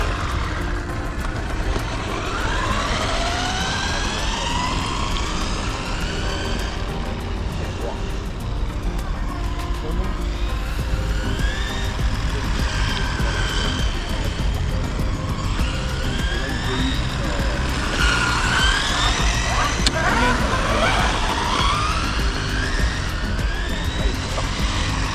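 An FTX Dodge Challenger 2019 (Stinger) RC car on a 2S battery drives around, its electric motor whining up and down in repeated surges over steady background noise while someone talks.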